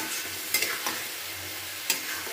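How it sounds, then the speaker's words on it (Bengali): Spice paste stir-fried in a pan for Bengali-style echor chingri (jackfruit and prawn), a steady soft sizzle broken by a few sharp scraping strokes of the spatula, close and alone. "খুব ভালো করে কিন্তু এই মশলাটাকে কষিয়ে নেব"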